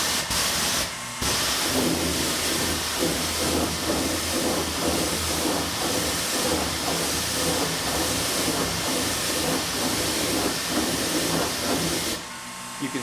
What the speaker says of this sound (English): So what I like to use is the high pressure washer.